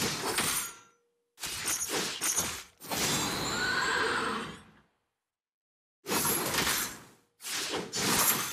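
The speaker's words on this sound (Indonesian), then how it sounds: "untuk ultimate-nya dia bisa mengeluarkan kuda, kemudian menunggangi kuda tersebut" A horse neigh from the Leomord hero's ultimate in the Magic Chess mobile game, several loud whinnying bursts with gaps of silence between them, mixed with game effects and no talking.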